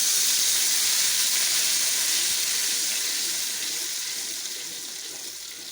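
Tomato and onion paste with added water sizzles in hot oil left from frying chicken koftas, a steady broad hiss that fades slightly toward the end, with no talk.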